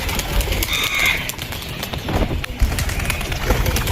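Pigeons coo softly amid a noisy, rustling coop, with scattered flutters and thumps throughout.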